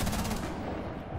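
Rapid automatic gunfire bursts out in a video game shooter, a loud dense rattle of shots that quickly fades into a noisy wash.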